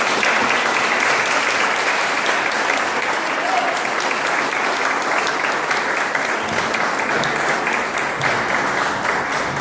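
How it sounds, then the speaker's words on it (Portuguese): An evangelical church congregation claps in praise, a dense, loud and continuous round of applause that holds steady from start to finish with a faint voice beneath it. "E as palmas glorificam ao Senhor."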